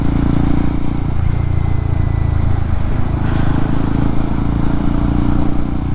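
A Royal Enfield Guerrilla 450 motorcycle with a single-cylinder long-stroke engine rumbles loud and close while being ridden, a steady low engine drone with slight rises in pitch, and no voices over it.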